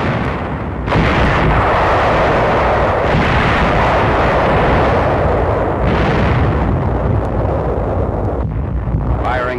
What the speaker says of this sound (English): Firing M51 quadruple 50 caliber machine guns